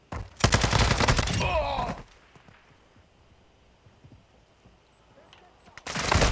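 Loud bursts of automatic gunfire and rapid shots from Call of Duty: Modern Warfare II fill the first two seconds, then fade to a quiet lull before another close, heavy volley erupts at the end.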